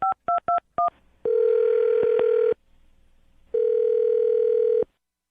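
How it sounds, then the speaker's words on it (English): A run of four short, sharp touch-tone dial beeps, then two long ringback tones separated by a pause, clear and loud with nothing else in between. "I'm going to dial her phone number."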